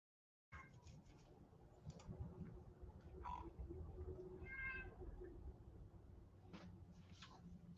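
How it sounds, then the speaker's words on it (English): A house cat meows a few times indoors, short tonal calls rising out of steady low background rumble and scattered clicks, fairly faint and close. "my cat is going crazy right now"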